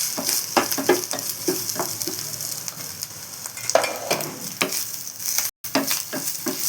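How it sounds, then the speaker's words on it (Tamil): Grated coconut and cardamom roasting dry in a pan: a soft crackling sizzle under frequent sharp spoon scrapes and stirs against the metal, close and fairly loud, with a momentary gap near the end. "தேங்காயும் திருவில் தேங்காயும் ஏலக்காயும் நம்ம வறுத்து வச்சுக்கலாம்."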